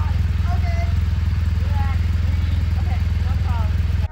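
Large motorcycle engine running steadily at idle, a deep continuous low rumble throughout with faint chirping sounds above it, ending in a brief clunk.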